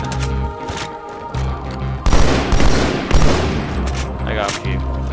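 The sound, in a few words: battle rifle gunfire in Halo 2 video game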